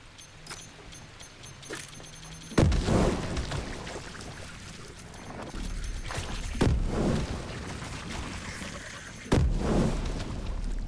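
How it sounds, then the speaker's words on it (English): Grenades go off in the video game The Last Caretaker, three heavy booming blasts a few seconds apart, each with a low rumbling tail, over a steady mechanical background. "now that this side is clear, I can start throwing grenades"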